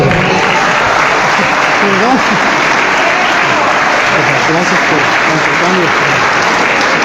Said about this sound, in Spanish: Aplauso fuerte, que se oiga, aplauso